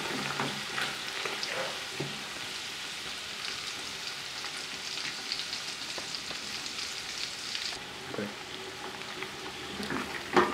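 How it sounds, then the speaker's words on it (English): Onions sizzle in hot oil in a pot for Ghanaian red stew, a steady crackling hiss with occasional stirring scrapes, moderately close and unbroken. "So our onion has been frying well"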